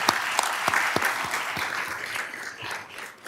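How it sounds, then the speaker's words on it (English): Brief audience applause at a school board meeting, a modest room of people clapping for about three seconds before it tapers off, with a few louder nearby claps mixed in. "if we could give them all a round of applause, I would appreciate it"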